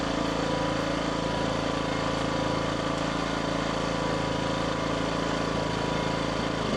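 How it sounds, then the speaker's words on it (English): A portable generator runs in eco mode during break-in, giving off a steady, loud, close engine drone with constant vibration and no pauses or voices. "fire it up, and we're going to run it on eco mode"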